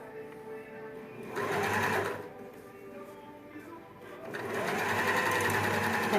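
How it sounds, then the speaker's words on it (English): A sewing machine runs in bursts of rapid, steady stitching, starting and stopping a few times, close up with a faint voice underneath. "you have a straight stitch on your sewing machine"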